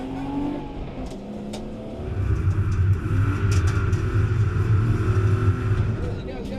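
Drift car engine revving hard on throttle, a loud, rough, sustained roar that builds after a brief lull, with people talking over it.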